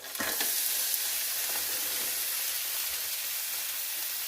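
Butter melting in a frying pan, a steady bright sizzle and hiss that holds evenly from start to finish, close and alone.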